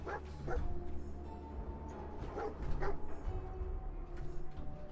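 Dogmeat, a dog in Fallout 4, gives a few short yips and barks over steady game ambience, with a breathy whimpering quality between bursts.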